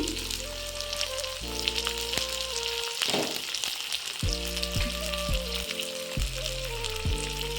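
Chopped carrots and long beans frying in a pan for street-style chicken chowmein, a loud steady sizzle that runs throughout, close up, with tonal hums from a stove or fan in the background and no talking.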